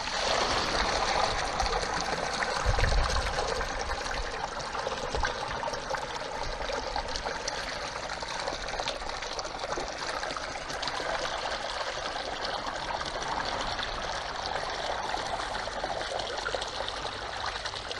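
A Marinaqua MP 50-M3 pump pours water steadily into a 90 liter container, a continuous close splashing and trickling rush with a faint motor hum, unbroken and without talk.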